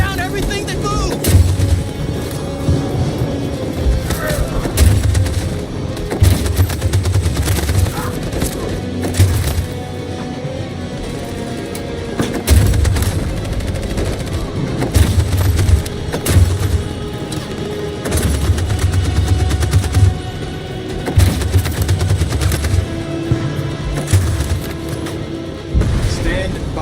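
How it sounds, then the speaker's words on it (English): Machine gun fire in the video game Detroit: Become Human, loud continuous bursts of rapid automatic shots with heavy booms and crashes of battle, repeating in pulses throughout, with shouting voices mixed in. "That machine gun is taking down everything that moves!"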